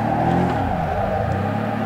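A racing car engine in the video game Assetto Corsa revs in third gear, a steady, droning motor note with a slight dip and recovery in pitch, heard alone and fairly loud over about two seconds.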